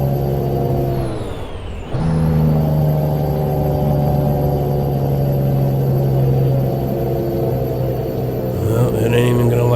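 A heavy truck with a 600-horsepower Cummins ISX 15 engine, 18-speed Eaton Fuller transmission and 3.90 gears lugs up a hill under a heavy load, a steady deep drone with a brief dip and gear change early on.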